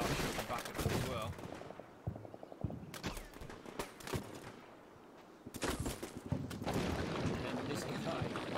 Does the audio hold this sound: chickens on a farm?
no